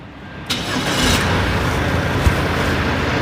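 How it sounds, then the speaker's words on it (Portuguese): A car engine cranks and starts during a test, beginning with a sharp click and then a steady running engine that carries on at moderate loudness with no talking. "Nesse momento, eu vou dar partida no motor."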